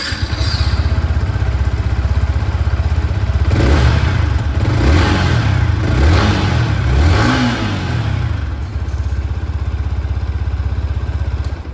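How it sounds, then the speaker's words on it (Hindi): A Yamaha XSR 155 motorcycle idles with a steady throb, then its exhaust revs up several times in rising and falling bursts before settling back to idle, loud and close. "इसकी जो एग्जॉस्ट साउंड है वो भी मैं आप लोगों को सुना देता हूँ"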